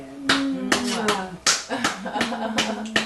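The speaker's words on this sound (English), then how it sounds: "Dad's applauding us" Dad claps his hands in a handful of sharp, close, irregularly spaced claps while a voice hums or talks softly underneath.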